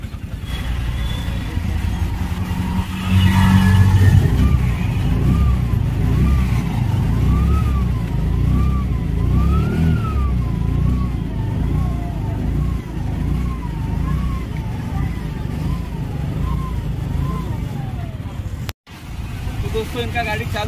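A Piaggio four-stroke auto rickshaw engine, just restarted after its self-starter was repaired, runs steadily at idle with a continuous low rumble, while a rising and falling warbling tone sounds over it and voices talk nearby.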